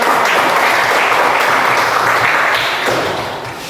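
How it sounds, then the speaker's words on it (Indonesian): Loud, close applause from a class of students in a classroom, a dense burst of clapping that holds steady and then tapers off toward the end, with no voices over it. "Berikan tepuk tangan."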